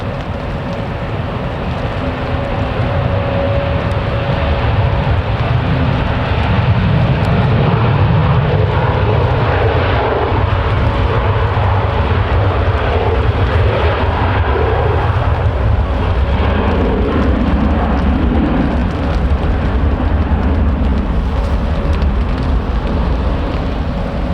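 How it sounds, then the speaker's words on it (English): At Manchester Airport during a storm, a Boeing Dreamliner and an Airbus A350 taxi nearby, their jet engines producing a loud, steady roar and whine that builds slightly and holds throughout, over a wash of wind and rain. "I spotted a Dreamliner and an A350 that are beginning to taxi"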